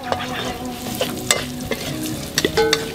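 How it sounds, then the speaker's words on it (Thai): Crocodile meat stir-fried with garlic in a pan, a loud close sizzle with busy spatula scrapes and metallic clinks throughout, no voices. "เอาเป็นเนื้อ จระเข้ผัดกระเทียมนะ"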